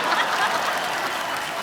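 A studio audience at The Kapil Sharma Show, a Hindi comedy show, breaks into loud, dense applause that fills the whole moment without pause.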